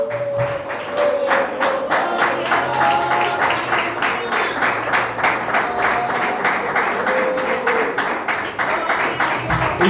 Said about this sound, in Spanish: Desocupa tus manos y vamos aplaudiendo fuerte.